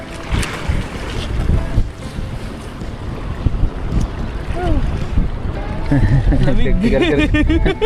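Strong sea waves crash and wash against a fishing boat off Taiwan amid strong wind buffeting the microphone, with a motor whining and people talking near the end.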